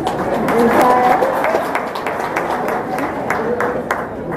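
Audience clapping at a KCPE results announcement in an indoor hall, a steady wash of applause with scattered sharp hand claps running throughout, mixed with background voices.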